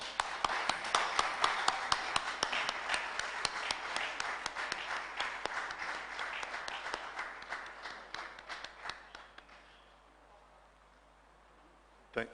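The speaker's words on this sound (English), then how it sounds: "Let's clap for her." Audience applause at a church synod talk session, dense clapping that swells then gradually thins and fades out over several seconds, with a final isolated thump.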